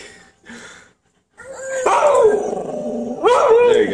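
A dog barks and howls loudly in short bursts, coming through a Skype video call at its owner, with brief pauses and a quieter voice at the start.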